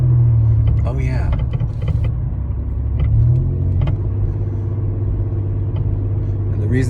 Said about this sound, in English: the reason why the car sounds so loud is because it needs something in the exhaust needs to be fixed